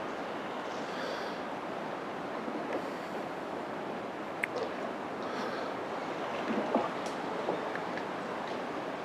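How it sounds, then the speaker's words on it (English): Steady wind roars throughout, a broad rushing noise with faint rustling and a few soft ticks, no voices. "That's wind"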